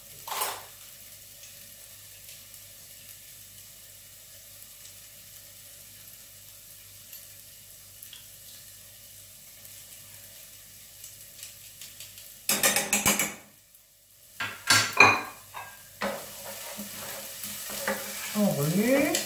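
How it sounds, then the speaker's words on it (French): Garlic is added to a hot sauté pan for a one-pot sausage pasta; a long faint hiss gives way to loud, bursting sizzles and scraping stirs in the last few seconds. "Là, je vais rajouter mon ail donc dans le tressail"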